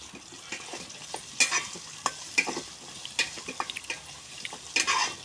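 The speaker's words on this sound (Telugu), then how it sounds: "ఇప్పుడైతే వేసేసుకుందాం ములంకాడ ముక్కలు." Drumstick pieces sautéed with onions in a pan for a mango and drumstick curry, with a steady sizzle under a string of sharp spoon scrapes and clatters against the pan.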